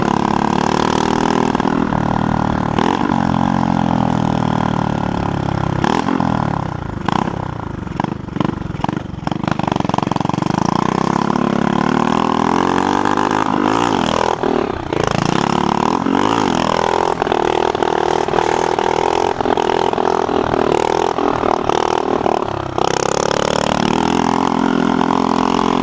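A motorcycle engine rumbles steadily at idle and rises in repeated revs, with the pitch sweeping up and back down several times, loud and close throughout, no speech.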